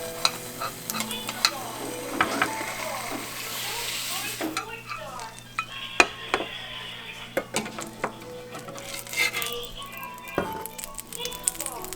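Egg whites sizzling in a frying pan make a soft, continuous crackle with a few utensil clicks and stirring scrapes, while someone talks over it.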